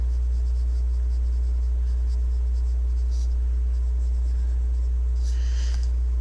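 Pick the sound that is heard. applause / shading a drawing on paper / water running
shading a drawing on paper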